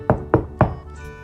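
Three firm knocks on a wooden door, evenly spaced and close, each a dull hollow thud, in a calm storybook setting.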